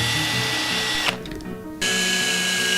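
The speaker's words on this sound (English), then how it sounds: "it'll be a lot easier to just drill the hole that way" A power drill whirs loudly and steadily, briefly changing pitch midway as it bites, then returns to its high, even whine.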